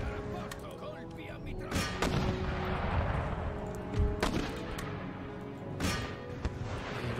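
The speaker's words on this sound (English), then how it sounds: "Fire off canister shot." Cannons in Empire: Total War fire canister shot in several sharp booming bursts spaced a couple of seconds apart, over steady battle ambience and background game noise.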